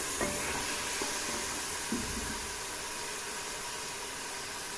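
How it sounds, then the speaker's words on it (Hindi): Mutton pieces fry lightly in a karahi pan with a steady, broad sizzling hiss throughout, a few faint stirring clinks near the start and partway through, no voices. "इसको हल्का सा फ्राई करूँगी ताकि इसकी स्मेल जो है ख़त्म हो जाए।"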